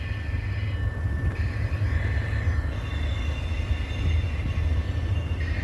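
A freight train with a rear DPU locomotive rolls past at Ashland, Nebraska: a loud, close, continuous rumble of wheels and cars, with faint thin wheel squeal above it throughout.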